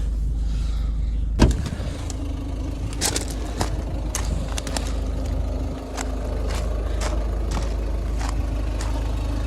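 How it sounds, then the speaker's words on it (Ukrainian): The rear wiper motor of a 2013 Ford Focus Titanium 1.6 HDI whirs with intermittent clicks over the steady drone of the idling diesel engine, heard close up and without speech. "Задній дворник працює."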